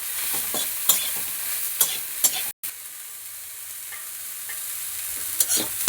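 Broccoli frying in oil in a pan sizzles steadily up close, with occasional scraping stirs and taps of a utensil against the pan over the continuous hiss.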